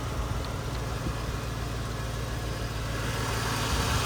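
A hot rod V8 engine, an LS-type motor in a 1955 Buick Special build, idles steadily with a low, even rumble and slight exhaust leaks, running continuously at a constant close level without speech.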